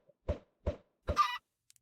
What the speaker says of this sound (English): oh my goodness, that's a lot of chickens.